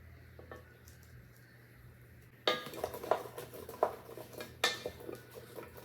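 A spoon mixes taco seasoning into potatoes in a bowl, starting quiet, then turning into close scraping and clinking strokes against the dish that continue to the end.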